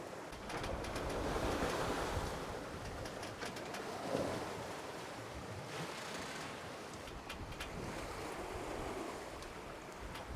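Ocean waves surging and wind blowing at sea in 15 to 18 knots during an Atlantic crossing on a sailboat, a continuous broad rushing wash with swelling crests and no voices.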